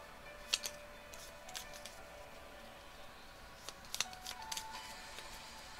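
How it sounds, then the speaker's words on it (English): Board game cards are shuffled in soft, irregular flicks and riffles, several scattered clicks over a quiet room hum, with no one speaking. "So we'll shuffle."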